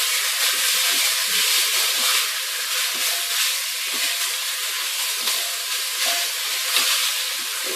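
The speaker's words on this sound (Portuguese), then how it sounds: "Então você vem e sela esse frango," Chicken sears in oil in a hot pan, a steady loud sizzle and hiss with small crackles throughout and no pauses.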